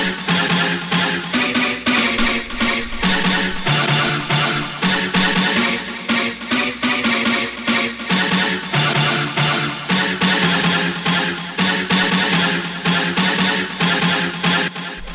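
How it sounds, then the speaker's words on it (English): A synth stab for hard industrial rave techno repeats in a tight, driving rhythmic pattern of a few notes, loud, bright and gritty, running continuously with no talk. "the first sound we have here is a stab"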